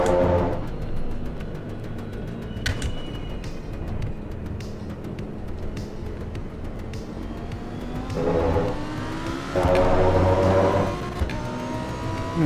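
A Porsche GT4 Cayman engine in the Assetto Corsa EVO racing game drones steadily, rising in pitch as it accelerates and swelling louder near the end, with no talk over it.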